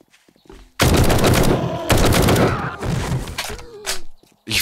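Bursts of rapid automatic gunfire in the 7 Days to Die video game, three loud sustained volleys with brief gaps between them, close and dominant, with no talking over it.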